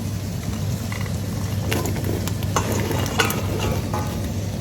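Zucchini dropped into a pan of frying meat and onions in a French country house kitchen, a steady close sizzle with scattered clicks and scrapes of stirring, no talk.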